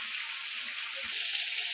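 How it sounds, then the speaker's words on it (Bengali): Pointed gourd (potol) frying in oil makes a faint, steady hiss and sizzle with a soft thump midway, no voices. "পটলটা ভাজা হয়ে গেছে, এবার তুলে নেব।"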